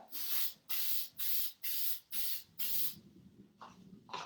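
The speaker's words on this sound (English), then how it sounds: "It doesn't take a lot of spray." An aerosol can of 3M spray sprays in six short rhythmic hissing bursts, close up, followed by a quieter stretch with a faint final spritz.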